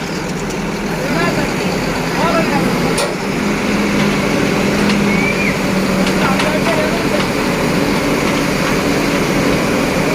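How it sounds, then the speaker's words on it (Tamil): Tar road paving truck working at a road construction site in Chengam, giving a continuous loud engine drone and hum throughout, with people talking over it. "அந்த வண்டி பாருங்கள், இதுதான் தார் சாலை அமைக்க வண்டி."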